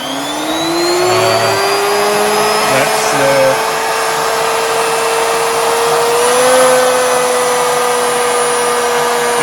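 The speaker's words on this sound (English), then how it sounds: "So the router does cut, although it's frigging noisy" A router cuts on an old vertical milling machine being restored, a loud, continuous high whine with a steady droning pitch that shifts slightly as it works, close and unbroken for the whole stretch.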